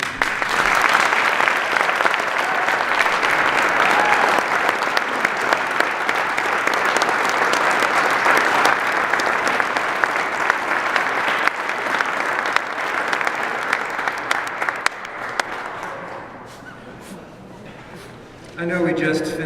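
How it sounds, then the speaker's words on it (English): A large audience at a state humanities awards ceremony applauds in a loud, sustained wash of clapping that thins out near the end, followed by a brief voice. "I know we just finished clapping"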